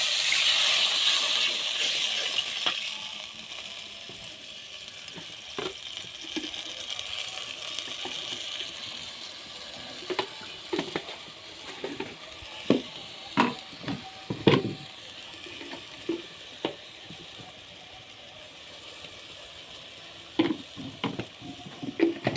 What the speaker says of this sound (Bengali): চিংড়ি মাছ আর লবণ একসাথে দিয়ে এগুলো ভালো করে নেড়ে ছেড়ে নেবো